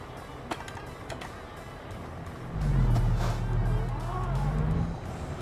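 A new Kenworth truck in American Truck Simulator: a steady low engine drone builds up midway and holds with a rising then falling hum, under a faint background hiss and a few light clicks.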